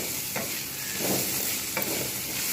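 Bitter gourd and potatoes fry in a pan with a continuous close sizzle. Two or three brief scraping stirs cut through it, and no one speaks.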